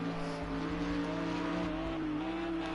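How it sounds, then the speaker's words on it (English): A Lamborghini and an AMG GT3 race car in Project Cars 2 drone along the backstretch at Sakitto GP with a steady, sustained engine whine that shifts pitch slightly as they pass, without any voices. "Great shot of both the Lamborghini and the AMG as they come onto the backstretch"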